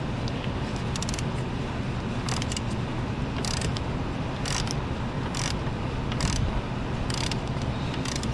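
A belt tensioner pulley on a 2016 Hyundai Elantra, spun by hand during an AC compressor replacement, gives a steady whirring, rattly mechanical sound that carries through the whole clip.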